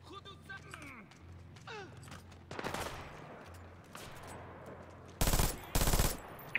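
Bursts of sniper and automatic gunfire in a first-person shooter video game, with two loud close volleys near the end, a clanking mechanism earlier and a voice talking underneath.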